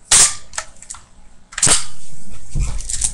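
Daisy Grizzly single-action pump BB gun being cocked, giving a sharp mechanical snap, a couple of lighter clicks, then a second loud snap and sliding rattle, close and loud with no talking.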